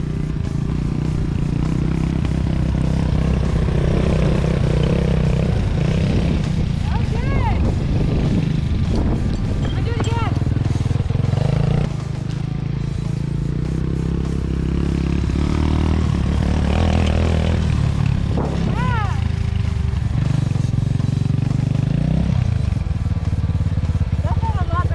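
An Apollo 250cc dirt bike rides in first gear, its engine buzzing loudly and steadily with repeated revving swells as throttle rises and falls over about twenty-five seconds, and people talk in between.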